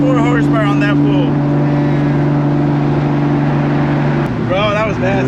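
A 1000+ horsepower Toyota Supra drives on a public street, its loud, steady engine drone and exhaust filling the cabin with tonal whines, a brief gear-change dip near the end, and voices talking over it.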